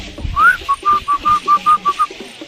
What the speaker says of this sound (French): Sifflez, faites un sifflet.